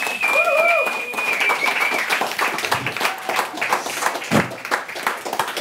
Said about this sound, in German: Applaus für die Moderatorin